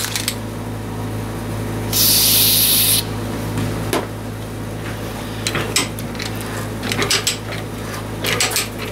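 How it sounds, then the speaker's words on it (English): Fluid Film lubricant sprays from an aerosol can in a single loud, hissing burst of about a second, up close in a workshop. Light metallic clinks and handling noises follow. "I might spray on some fluid film here."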